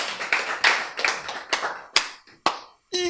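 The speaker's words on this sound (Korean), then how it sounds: "네, 박수." Scattered applause from a lecture audience at a health talk: a handful of separate, sharp bursts of clapping, loud and close, with short gaps between them and a brief silence near the end.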